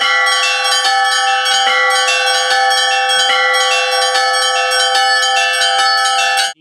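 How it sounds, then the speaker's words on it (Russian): Easter bells at an Orthodox church peal loudly and continuously, several bells struck in a fast, overlapping rhythm with rich ringing tones, then cut off abruptly at the end. "Благовест раздался на всю округу."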